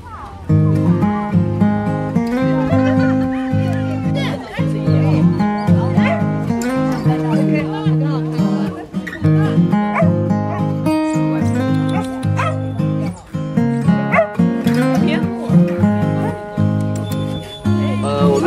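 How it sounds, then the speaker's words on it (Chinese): Dogs at a summer outdoor pet gathering yip and whimper among dense harmonic noise, with people talking throughout and the yelps rising and falling in rapid, overlapping bursts. "现场大家可以看到，有些狗狗都已经到了。"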